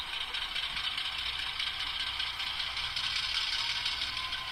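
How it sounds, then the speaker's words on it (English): A model railroad locomotive's sound decoder on a Union Pacific Evanston Sub layout plays a steady, hissing brake squeal with a faint mechanical rattle underneath, holding level throughout. "when this goes to 0, you have a little bit of the brake squeal at the end"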